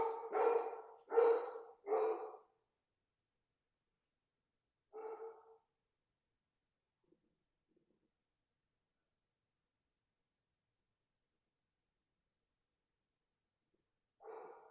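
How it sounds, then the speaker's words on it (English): A dog barks in a quick burst of three loud barks, then once more a few seconds later and again after a long quiet pause. "My dog barked at the wrong time."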